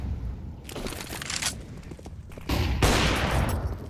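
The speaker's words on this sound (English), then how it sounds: "So he fires off a shot." Gunfire in Counter-Strike at a pro league match, several sharp bursts of shots in quick succession, loud and close, with a heavier volley near the end and no talk over it.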